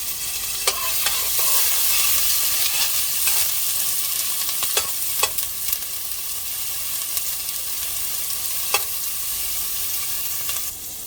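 Garlic and onions sizzle steadily in a pot for curry, a constant close frying hiss punctuated by occasional sharp clicks of stirring.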